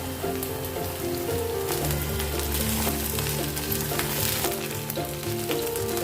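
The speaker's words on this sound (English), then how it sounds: "And fry the other side 2 minutes" Battered Korean-style fry sizzles steadily in a hot oil pan, a dense, even crackle of frying that carries on unbroken with no one speaking.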